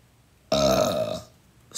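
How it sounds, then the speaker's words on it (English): A single loud, close burp from a woman, drawn out for under a second with a strongly voiced, buzzing tone, then quiet before a faint breath. "I said I wasn't going to be burping."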